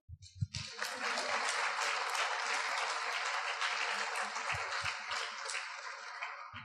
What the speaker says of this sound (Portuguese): Palmas, então.